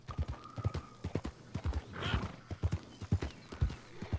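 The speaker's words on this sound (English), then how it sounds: "Man, there's a lot of horses." Horse hooves in the video game Red Dead Online, a brisk, rhythmic clip-clop of several horses moving together, close and clear, with a whinny rising in the middle of the run.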